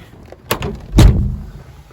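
The door of a 1992 classic Mini Cooper swings shut with a heavy, close thud, just after a lighter click. No voices.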